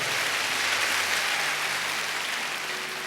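Church congregation clapping loudly and steadily at an anniversary service, a dense wash of applause with no gaps that holds near full strength for the whole stretch, easing only slightly at the end.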